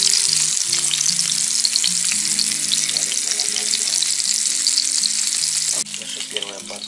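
Fish fries in a hot pan at home with a loud, continuous crackling sizzle that suddenly drops to a softer level near the end.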